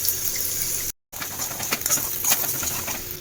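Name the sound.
onion, green chilli and beaten egg frying in oil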